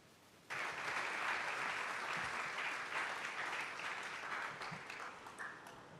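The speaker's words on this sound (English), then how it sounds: "we got one more round of applause for all these musicians" Sustained applause from a school board meeting audience for the musicians celebrating Somerville High School's 100 years, starting abruptly after a quiet moment and continuing as a steady, full wash of clapping that slowly eases.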